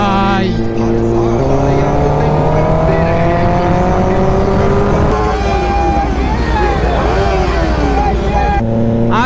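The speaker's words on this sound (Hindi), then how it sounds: "ओहो ऑटो का रैली, इतना सारा बाइक एक साथ जाने का मजा ही अलग है भाई।" A large Independence Day rally of motorcycles, over 250 bikes, roars past together; loud, close engine notes rise and fall continuously, with overlapping revs throughout.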